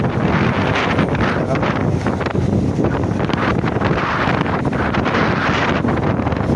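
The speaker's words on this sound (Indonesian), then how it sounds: "Angin." Strong wind buffeting a microphone outdoors on a trip through the Petungkriyono forest, a loud continuous roaring rumble with no letup across the whole stretch.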